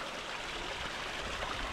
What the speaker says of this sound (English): oh look, there's a little creek